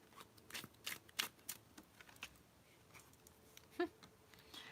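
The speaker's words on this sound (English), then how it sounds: "I feel like I have to like really shuffle these cards" Tarot cards being shuffled by hand up close, making quick papery riffles and soft slaps in irregular bursts over a quiet background.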